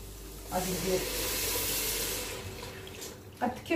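Water pours steadily into a cooking pot for an olive tajine, making a close, hissing rush that lasts about three seconds before it stops with a couple of clunks at the end.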